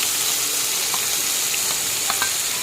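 Onion paste with curry leaves drops into hot oil for a prawn masala curry, giving a loud, steady, hissing sizzle throughout with a few faint pops.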